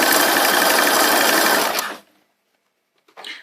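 A sewing machine runs steadily while stitching pajama pants fabric and elastic, a loud continuous whir that stops abruptly, followed by silence and a brief faint rustle near the end.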